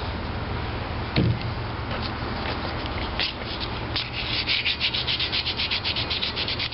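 Hand sanding over primer and spot putty on a Maytag model 72 engine stand part: a steady scratchy rubbing that runs throughout, growing into quicker rhythmic back-and-forth strokes near the end, close and fairly loud.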